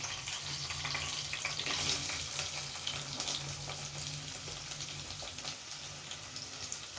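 Chopped onions frying in a pan for a liver masala, a steady broadband sizzle running throughout at moderate level with faint scattered clicks, no voices.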